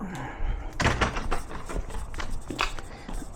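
A side door latch with a broken spring clicks and rattles as someone works at it, with a few knocks and shuffling, while a person speaks nearby.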